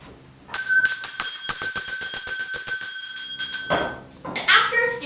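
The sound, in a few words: school bell rung by the teacher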